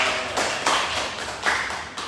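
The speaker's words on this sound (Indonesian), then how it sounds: "mari kita beri aplaus dulu untuk kita semua ya" Students in a classroom giving applause, a few short bursts of claps, close and fairly sparse rather than a sustained ovation.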